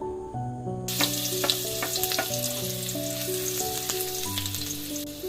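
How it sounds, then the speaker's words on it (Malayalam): Sunflower oil heating in a hot pan for a red spinach cutlet, a steady close sizzle running throughout beneath a bed of background music. "പാത്രം ചൂടായി നമുക്കതിലേക്ക് അല്പം എണ്ണ ഒഴിച്ചു കൊടുക്കാം"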